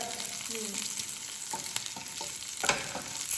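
Coriander seeds and green chillies fry in a pan with a steady sizzle, a few sharp crackles and small stirring clinks, close and moderately loud.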